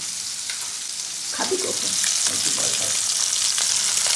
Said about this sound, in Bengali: রুই মাছ এখন হচ্ছে মাছ ভাজা